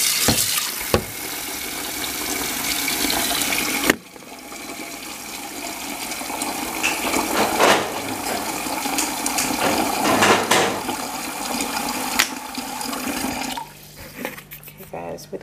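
Water pours steadily into a pot while pigtail is scalded for stew peas, a continuous rushing splash lasting the whole stretch with brief clunks and a voice talking over it.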